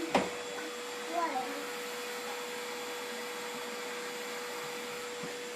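A child runs a vacuum cleaner indoors around a bathroom, its steady motor whine droning throughout, with a brief bump at the start and faint voices in the background.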